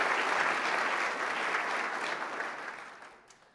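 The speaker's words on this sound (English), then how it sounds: "A round of applause for all of our sponsors" Audience applause honoring sponsors at a Detroit Regional Chamber conference, a dense steady clatter of many hands in a large room that holds strong before tapering off toward the end.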